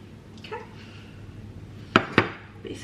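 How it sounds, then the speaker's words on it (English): Food dropped into a frying pan in a home kitchen: two sharp, close clanks in quick succession, preceded by faint clinks and light handling noises. "Basically plopped it all in the frying pan"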